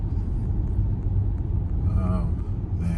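A 2023 Tesla Model Y Performance drives on summer tires through snow, giving a steady low road and tire rumble with a faint voice now and then.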